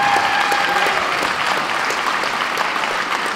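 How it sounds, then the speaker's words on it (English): At the Irish Nationals, an audience gives a big round of applause for Lee, a dense, steady wash of clapping at moderate volume, with a brief faint tone early on. "Can we have a big round of applause for Lee"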